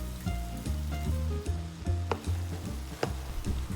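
Fresh corn sizzling in a pot with potatoes for a corn chowder, a close crackling fry broken by repeated stirring scrapes and clatters at an uneven rhythm, no voices.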